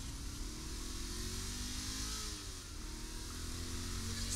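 A fast car's engine revs steadily in Saints Row The Third, a loud continuous mid-pitched drone with rising and falling tone, heard alone without talk.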